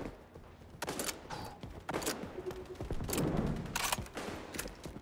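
Shots from a sniper rifle in a Call of Duty game ring out several times as sharp cracks amid busy mechanical clicks and in-game clatter, moderately loud throughout.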